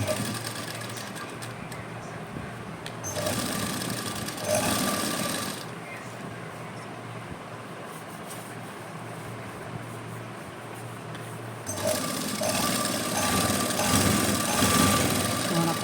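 A sewing machine stitches cord piping onto fabric in short runs, its rapid mechanical whir starting and stopping in bursts with quieter pauses between, under occasional talk.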